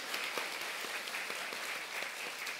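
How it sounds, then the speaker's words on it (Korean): Congregation applauding in a church during a Sunday worship service, a steady dense wash of clapping throughout, moderately distant and continuous, with no speech over it. "우리 큰 박수로 우리 축하하고 격려하겠습니다"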